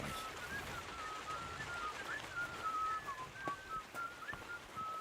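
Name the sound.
character whistling in Kingdom Come Deliverance 2 video game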